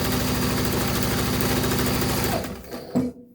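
Austech SK-2BL20 long-arm walking foot heavy-duty sewing machine stitching soft vinyl at over 2,000 stitches a minute, a loud, steady rapid mechanical chatter that slows and stops near the end with a final knock.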